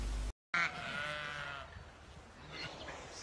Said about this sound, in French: Vous allez voir cette petite vidéo hein, sur les petits moutons.